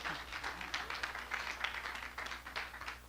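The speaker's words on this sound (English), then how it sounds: "We're giving them a round of applause there." Applause during a church service, a soft, distant patter of clapping from the congregation that continues steadily for a few seconds.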